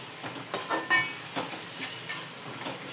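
Food sizzles and fries in a pan before tomato is added, a steady crackling hiss with soft stirring scrapes, close and moderately loud.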